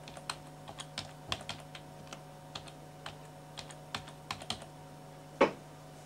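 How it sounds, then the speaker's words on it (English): Keys tapping on a computer keyboard while a password is entered, a light and irregular run of clicks at close range with one louder keystroke near the end, over a steady low room hum. "I will type in a password."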